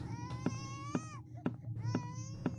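Baby crying in the Japanese horror game Jusou, repeated wailing infant sobs close and clear, punctuated by regular soft thumps about twice a second.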